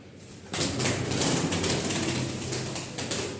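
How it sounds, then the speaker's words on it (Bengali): Cooing from Rajshahi Giribaz pigeons kept in a loft, a dense, continuous low warble that starts abruptly and carries on loud and close, with several birds overlapping and faint wing or movement noises mixed in. "এই দেখেন ডাক দেখেন মার্শাল্লাহ মন জোড়ানো ডাক"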